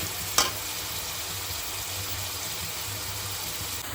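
Onions and vegetables frying in a pan for Maggi noodles give a steady, soft sizzle with a low hum beneath, broken by one brief clack near the start.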